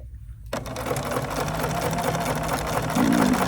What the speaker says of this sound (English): So we're going to sew this little piece right now.